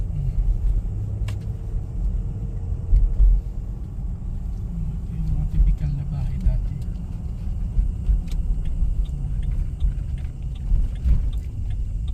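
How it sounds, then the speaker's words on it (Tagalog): Cars drive along a residential street near Coronation Park in Canada, a continuous low rumble of passing traffic rising and fading in waves, with a person talking over it. "medyo madami yung sasakyan ngayon kasi labasan ng mga high school"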